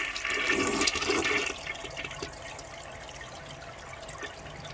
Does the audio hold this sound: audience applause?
no